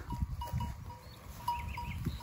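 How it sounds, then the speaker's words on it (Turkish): Sheep bleat on a village farm, with several overlapping calls from the flock against low rumbling background noise. "koyunlar yanına doğru gidelim mi Barış?"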